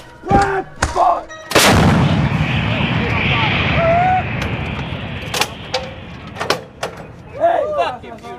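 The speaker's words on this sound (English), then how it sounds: "Artillery's great." Artillery fire rings out in loud booming reports, one heavy blast followed by a long rolling rumble and several sharper distant shots, while people shout and talk nearby.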